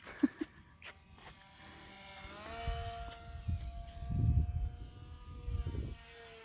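A tiny XK A430 Edge 3D ready-to-fly RC plane on its maiden flight, its small electric motor whining and buzzing as it rises and falls in pitch across aerobatic passes, with gusts of wind noise, fairly close and no talking.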